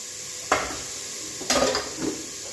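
Food being roasted in a pan until golden brown, with a few brief scraping stirs of a spoon against the pan over a soft, steady sizzle, close and with no talk.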